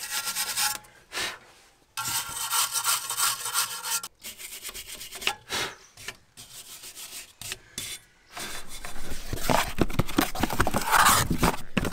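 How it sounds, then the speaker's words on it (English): Wire brush scrubbed hard behind a Subaru front brake disc, loud raspy rubbing strokes in irregular bursts with short pauses, close and alone without talk. "You can take some time to clean everything behind it with a metal brush."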